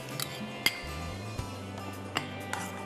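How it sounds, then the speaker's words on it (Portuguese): A spoon stirs water, sugar and prunes in a pan for a coconut pudding syrup, giving faint, sparse metallic clinks against the pan in an otherwise quiet kitchen. "Eu coloco tudo na panela."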